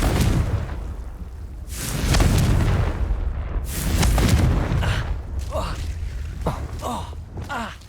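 A Confringo fire spell detonates in Hogwarts Legacy with heavy booming blasts, two or three loud close explosions with rumbling tails, followed by lighter whooshing spell effects.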